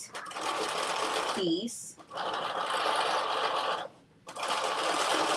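A sewing machine stitching the last seam of a dress in rapid mechanical bursts, loud and close, pausing briefly twice while a person speaks over it.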